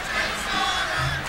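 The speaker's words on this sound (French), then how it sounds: "les gens chantent pour le sergent Slaughter." A wrestling arena crowd at the WWF Royal Rumble 2001 chants for Sergeant Slaughter, a dense, steady roar of many voices that stays loud throughout the short moment.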